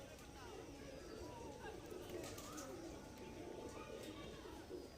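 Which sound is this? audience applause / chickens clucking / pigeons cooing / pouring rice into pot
pigeons cooing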